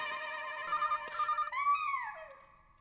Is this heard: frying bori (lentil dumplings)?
no